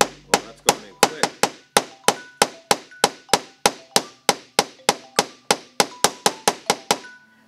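A hammer drives nails into wood with about two dozen sharp, ringing strikes in a fast, even rhythm, close and loud.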